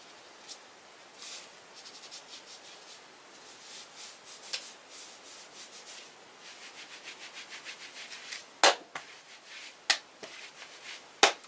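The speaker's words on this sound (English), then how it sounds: "you can rub your hands together." Bare hands rub together as a friction percussion sound, a soft rhythmic swishing that builds in short strokes, close and quiet, punctuated near the end by a few sharp slaps or snaps.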